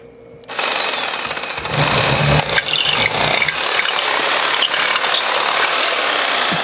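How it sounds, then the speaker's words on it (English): Cordless drill boring through a baseball bat, a loud, steady high-pitched whine and grinding that kicks in after a brief quiet start and runs continuously to the end. "These bats are always hard to drill through."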